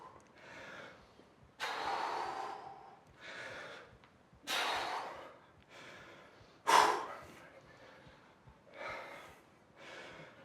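Heavy, forceful breathing from a man during a Navy SEAL-style HIIT workout: repeated loud exhales, gasps and snorts in an uneven rhythm, close to the listener.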